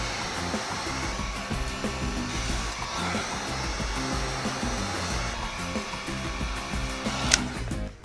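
A heat gun runs steadily as it warms an iPad Air screen during a DIY screen replacement. It gives a constant, close whooshing blower drone for the whole stretch, with one brief sharp click near the end and no talking.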